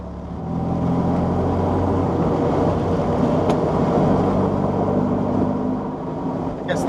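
A classic Fiat 500 drives along an empty road at about 30 to 32 miles an hour. Its engine gives a steady, fairly loud drone that continues for the whole stretch with no break.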